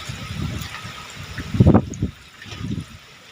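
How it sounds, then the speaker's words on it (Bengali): Hot water pours into a pot of country-style chicken curry made with ground spices, a close, bubbling splash and gurgle in short bursts with a stronger surge partway through. "জলটা আমি আগে থেকেই গরম করে রেখেছিলাম, এই জলটা দিয়ে দিচ্ছি।"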